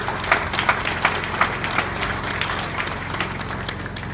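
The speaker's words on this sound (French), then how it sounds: "Je vous demande de les applaudir, s'il vous plaît." Audience clapping at a school inauguration ceremony, in honor of an education fund director presented with flowers, moderate and somewhat distant, with a few sharper claps standing out over a low steady hum.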